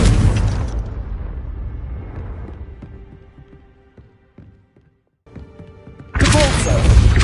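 A Confringo spell blast in the Hogwarts Legacy video game: a loud burst opens, tails off into a rumbling decay with scattered debris clatter, then a second heavy blast erupts near the end.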